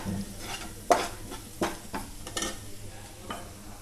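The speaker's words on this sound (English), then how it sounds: "Give a quick mix of it." Chilli powder frying on a low flame in a pan while being stirred, with a quiet continuous sizzle and several soft scraping stir strokes, no talking.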